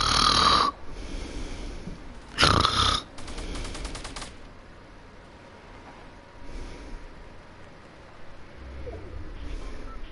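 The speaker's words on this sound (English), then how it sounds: "he was snoring." A person snoring during a Fortnite session, with a couple of loud noisy bursts near the start, then softer rough breaths continuing faintly at low level.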